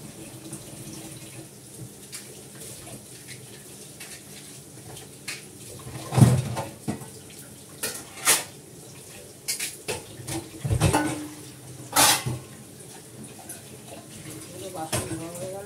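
Tap water runs in intermittent bursts while dishes are washed, with irregular splashes and clinks of utensils close by.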